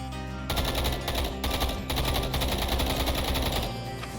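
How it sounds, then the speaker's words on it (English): Rapid rifle gunfire in a modded Minecraft war game rattles out in a dense, continuous burst for several seconds, loud and close, then stops abruptly. "Then I saw them and began firing."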